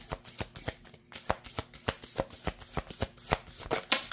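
Tarot cards shuffled by hand for a daily reading, a quick run of crisp riffling slaps at a fairly even rhythm, close and fairly quiet, with no talk over it.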